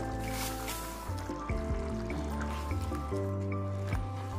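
Tomato sauce for lasagne being stirred in a pot: soft, wet squishing and thick bubbling, close and continuous, with no talk.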